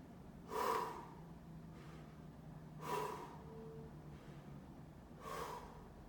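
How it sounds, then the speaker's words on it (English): Three deep, slow breaths taken during a guided yoga stretch, each a breathy inhale spaced about two seconds apart, close and quiet with no talk. "So we're gonna get 3 big breaths now."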